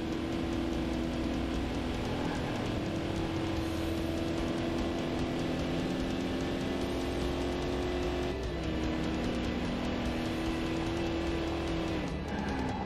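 A Corvette C4 accelerates steadily in Corvette: 50th Anniversary racing game, its engine holding a loud, sustained drone that climbs briefly before gear changes, with faint tire noise and no talking.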